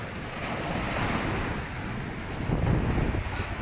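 Typhoon-driven sea waves in Quezon Province roar continuously with heavy wind buffeting the microphone, a dense loud wash that swells slightly toward the end, with no voices.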